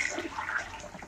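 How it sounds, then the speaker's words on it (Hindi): Water poured into a pot of chicken and potatoes for pulao, a steady splashing gush throughout, close and moderately loud with no talk. "अब इसके अंदर हम पानी डालेंगे ताकि हमारा जो आलू है और चिकन जो थोड़ा सा और गल जाए"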